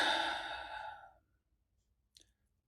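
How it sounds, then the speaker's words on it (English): A long, deep exhaled breath, loud and close at first and then fading out, followed by a brief faint intake. "Take a deep breath."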